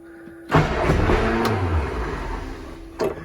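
A 1962 Morris Mini Minor, choke pulled and in neutral, cranks briefly and then catches, the engine rumbling up into a rough idle close by, with a sharp click near the end.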